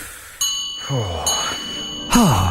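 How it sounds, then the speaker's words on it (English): A studio bell rung on a comedy radio show gives several bright metallic strikes with ringing tones, accompanied by swooping, descending electronic effects that wobble away between the strikes. "Let's ring the regression bell and get the correct atmosphere."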